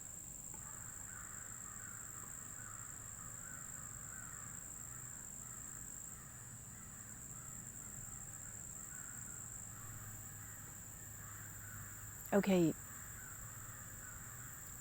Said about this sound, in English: but the crows, man, do you hear that?